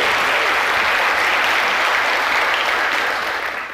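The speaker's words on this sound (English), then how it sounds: "Let's have a big round of applause for Elliott Sprehn" Audience applause fills a conference hall after a speaker on Chrome web components is introduced at CodeConf 2015, a dense, loud burst of clapping that holds steady and then begins to taper off.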